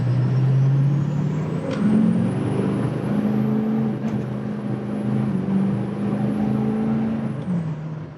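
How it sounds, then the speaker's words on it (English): LMM Duramax diesel in a Hummer H2 revving up under partial throttle, a loud, steady low engine drone that rises and shifts in pitch as it accelerates, close by with no talking. "So I'm going to give it some throttle here so you guys can hear it."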